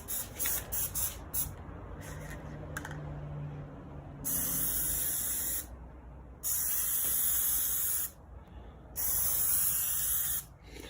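Bursts of Plasti-Dip aerosol sprayed onto Tesla Model Y emblems during a second coat: three or four sustained close hisses lasting one to two seconds each, separated by brief pauses, with no talking.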